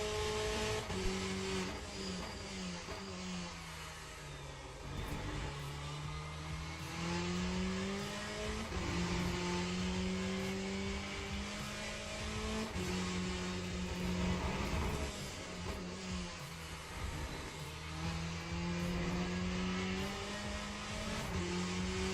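A race car engine on a fast lap in Le Mans Ultimate keeps a steady, loud drone that rises and falls with upshifts and downshifts, with pitch sweeps through the gears and no voices over it.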